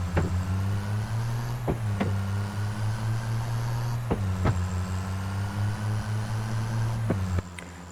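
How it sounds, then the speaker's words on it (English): A heavy truck engine drones steadily in the Farming Simulator 25 game, broken by several loud, abrupt gear shifts that make sharp clunks and pitch drops at irregular intervals, with the engine falling away at the end. "The gear shifts are so loud."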